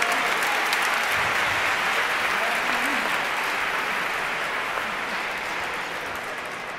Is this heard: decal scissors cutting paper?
no